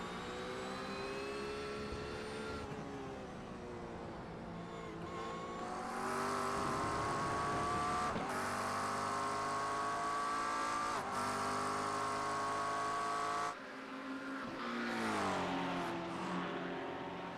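Racing Porsche engines in a sim racing endurance event at Sebring: loud, sustained whining engine notes rise and fall as cars rev and shift, with several overlapping cars and sharp changes in pitch, and no voices.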